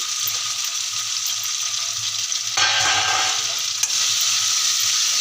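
Steady sizzling of grated fresh coconut frying in a pan, loud and continuous, with a brighter burst of hissing partway through as something is added.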